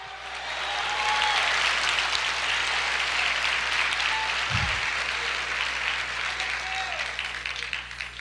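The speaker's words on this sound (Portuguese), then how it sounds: "Aplauda o Senhor, diga aleluia!" A church congregation applauds during a sermon, sustained clapping from many people that swells and holds, with a low hum underneath and a brief thump midway.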